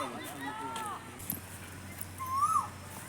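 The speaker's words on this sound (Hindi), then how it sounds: "कोयल बैठ के कूक रही थी।" An Asian koel calls from a jamun and mango tree, a clear rising whistled note standing out near the end over a noisy outdoor background with people talking faintly.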